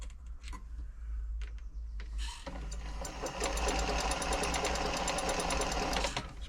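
A freshly oiled Janome Memorycraft 3000 sewing machine sits quiet with a low hum and a few clicks, then starts up on zigzag and runs at a steady, smooth whir with a fast, even needle rhythm.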